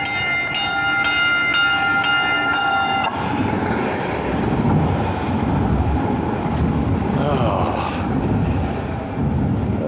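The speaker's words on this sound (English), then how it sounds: "here comes the train" A Valley Metro light rail train arrives with a multi-tone horn blast at the start, then a rolling rumble and rattle of wheels on track as it pulls in nearby.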